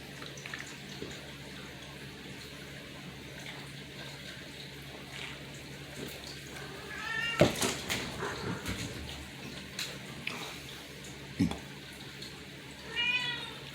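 A house cat meows indoors, a couple of short calls rising over a low room hum near the middle and end, with faint talk and small household noises around them.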